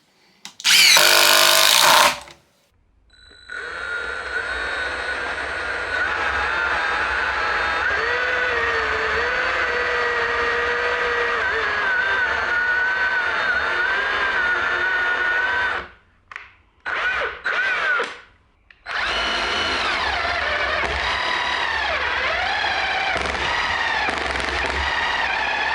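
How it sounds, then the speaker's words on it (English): A loud burst, then a Milwaukee M18 Fuel cordless impact driver hammering with a rapid rattling whine, stopping briefly twice before resuming, close and loud. "as soon as it starts impacting, you're going to get a lot more noise."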